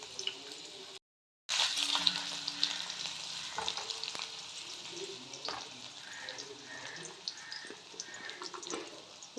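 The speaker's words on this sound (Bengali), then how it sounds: "যে সবজিগুলো ভাজতে একটু টাইম লাগে সেইগুলো আগে দিয়ে দেবো।" Carrots and other vegetables frying in a pan, a busy sizzle with scraping stirs and light clatter after a brief cut to silence near the start.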